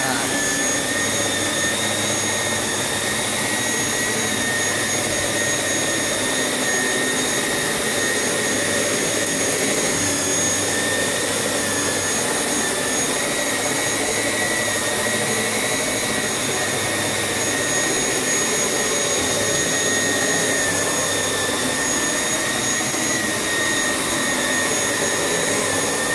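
A Samsung bagless canister vacuum cleaner works over high pile carpet with a loud, constant, high-pitched whine and rushing airflow that holds steady throughout, with no voices.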